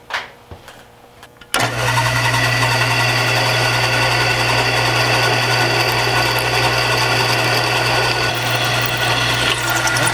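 After a few quiet clicks, a power drill starts abruptly and runs at a loud, steady whine with a grinding edge as the bit cuts without any cutting lubricant.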